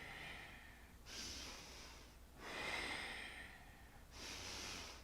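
Forceful, quick breaths in a yoga breathing exercise: three long, rushing breaths close to the mic, each lasting about a second, separated by short pauses.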